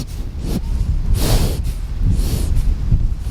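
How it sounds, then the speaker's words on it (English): A horse snuffles and snorts right up against the microphone, several breathy bursts of air in an uneven rhythm. "She's sniffing the microphone."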